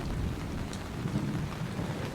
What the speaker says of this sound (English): the almost deafening crash of thunder seemed to hang right over the camp